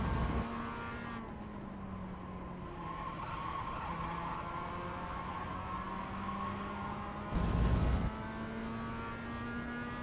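Mazda MX5 engine held at full throttle in the iRacing simulator, a steady high droning whine climbing slowly in pitch, with a brief louder burst of tire noise near the end, continuous and alone.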